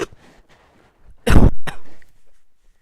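A single loud, close cough bursts out after a moment of near silence, with a short second catch right behind it.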